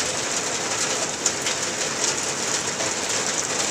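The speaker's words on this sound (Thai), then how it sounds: "วันนี้นอนฟังเสียงฝนค่ะตอนเช้า" Steady morning rain falling, a dense, even hiss of drops on surfaces that holds at a constant level throughout, with no voices.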